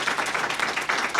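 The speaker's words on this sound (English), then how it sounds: "let's give a round of applause" Brief burst of audience clapping at a school awards ceremony, uneven rhythmic claps from a modest crowd, fairly close and loud, cut short.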